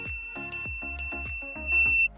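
A bright notification-style bell chime rings out in a quick series of struck tones, with booming low hits under each one and a sustained ringing note near the end, loud and alone.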